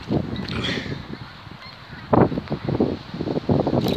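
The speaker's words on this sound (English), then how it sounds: "Oh, a bunch of geese." A flock of geese honks repeatedly in bursts, fairly close, over a low background of wind.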